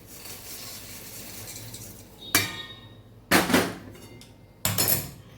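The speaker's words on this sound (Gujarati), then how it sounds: "આ મમરા વઘારેલા આપણે એક મોટી તપેલીની અંદર લઈ લઈશું" Seasoned puffed rice tipped into a large cooking pot gives three sharp, crisp rattling pours over a quiet kitchen background, each a short, bright burst of dry grains hitting metal.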